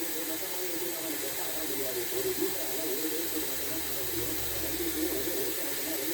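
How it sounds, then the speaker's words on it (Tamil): Sweet bonda batter poured into hot oil, giving a steady, continuous sizzling hiss throughout that stays fairly close and even in level, with no talk over it. "இப்போ பாருங்கள், ஆயில் ஹீட் ஆகிடுச்சு. நான் இப்போ இதில் கொஞ்சம் ஊற்றிக்கிறேன்."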